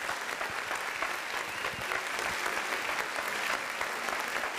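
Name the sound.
audience applause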